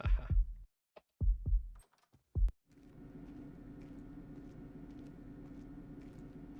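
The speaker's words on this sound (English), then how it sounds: "I think that's the only time they use that heartbeat like sound effect." Heartbeat-like sound effect in the Splinter Cell stealth video game: several heavy low thumps in uneven pairs, loud and close, then giving way to a steady low rumbling ambience with no talking.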